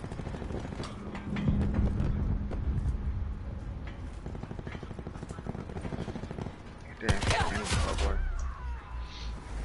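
Pistols fire rapidly in Call of Duty Black Ops 4, a fast run of sharp shots under steady talk, then a louder burst near the end.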